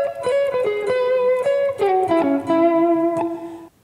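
An electric guitar plays a quick blues run, a fast sequence of picked and bent notes with a slightly driven tone, close and solo without speech.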